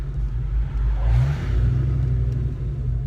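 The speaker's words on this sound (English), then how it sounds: "I like listening to the sound of the engine more than anything." A 1991 Ford Mustang GT's engine drones and revs steadily from inside the car while it drives through traffic, a deep continuous rumble with a brief swell in pitch partway through.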